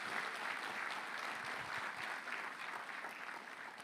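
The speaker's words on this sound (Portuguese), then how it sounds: "Aplauda o Senhor nessa manhã" A church congregation applauds the Lord at a morning service, a steady, dense patter of many hands clapping, fairly soft and distant, sustained evenly across the whole stretch.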